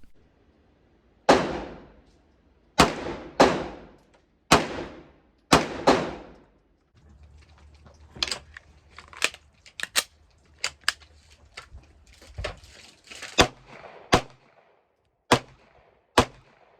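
A CZ 75 SP-01 Phantom handgun fires a series of sharp, loud shots: a slow, evenly spaced string of about five, then a quicker irregular run of lighter cracks and a few final spaced shots, with no talk.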